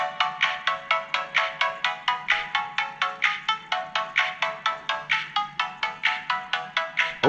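A song plays from a phone sealed inside a waterproof Catalyst case, coming through as a steady run of bright, pulsing repeated notes in an even rhythm, fairly loud and close with no talking.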